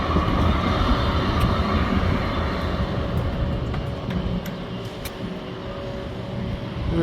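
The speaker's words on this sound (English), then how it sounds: "Oh, there's the train." A light rail train rolls past on a neighbourhood street during a summer walk in Strathearn, a steady broadband rumble and rattle that stays loud and close for several seconds without easing.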